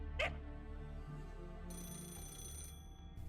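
A phone rings in the Shinjuku chapter of the game Fate/Grand Order, a short bright electronic ringtone burst of about a second over quiet background game music.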